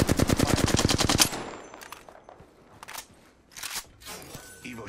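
Rapid automatic gunfire in Apex Legends, a tight burst of about a dozen loud shots lasting just over a second, followed by scattered fainter clicks and shots.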